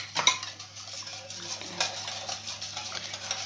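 Russian salad being mixed with cocktail syrup in a bowl, a spoon clinking and scraping against the dish in quick irregular strokes, close and fairly soft, without speech.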